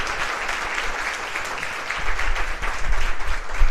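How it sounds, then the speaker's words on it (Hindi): An audience at a coaching institute's motivational session claps for two honoured people, a steady broad patter that swells louder in the second half. "तो आशीष और दुर्गेश सर दोनों के लिए तालियां होनी चाहिए"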